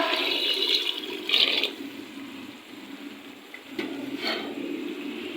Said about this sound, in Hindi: डालने लगी हूँ एक डिब्बा भर के मैं इसके अंदर पानी का।